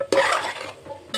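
Masala is stirred into multi-millet macaroni pasta in a pan, giving a short burst of close scraping and mixing strokes followed by a quieter pause.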